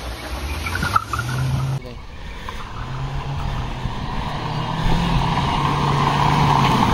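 Kia Sonet and Maruti Brezza cars in a drag race, engines humming and building steadily as they pull away, a continuous drone that grows louder toward the end, with a brief knock early on.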